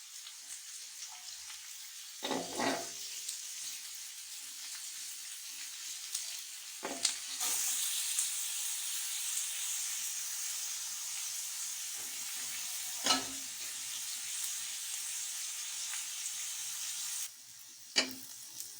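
Onions frying in oil for bhindi masala hiss in a continuous bright sizzle, with several scraping stirs and a couple of brief louder surges partway through; no talking.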